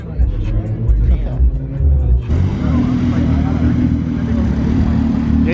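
Nissan 350Z engines with 3.8-liter motors rumble and rev loudly at a night car meet, a deep steady roar that swells sharply partway through as voices chatter around them.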